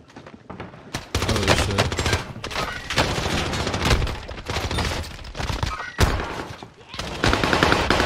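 Video game gunfire: rapid, loud, close bursts of automatic shots repeating with brief gaps, dense and sharp, with a player's voice talking over parts of it.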